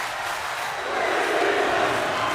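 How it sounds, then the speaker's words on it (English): A wrestling arena crowd screams and cheers in a dense, roaring wash of voices that swells slightly louder midway, with no single voice standing out. "The crowd screaming, this is awesome"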